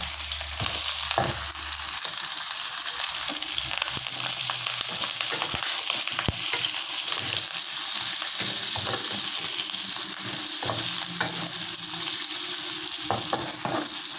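Ginger, garlic, green chili, onion and curry leaves sizzle steadily in hot oil while being stirred, with scraping and clinking of a spoon against the pan over a constant loud frying hiss.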